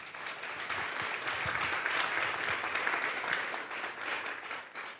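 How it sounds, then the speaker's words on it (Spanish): A church congregation at a Sunday morning service breaks into strong, sustained applause, dense steady clapping that fills the room for several seconds with no voices over it. "Vamos a darle un fuerte aplauso, pues, al Señor."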